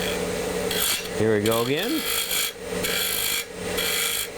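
A round cutter carves wood in short bursts of rasping, grinding texture separated by brief pauses, while someone speaks briefly in between.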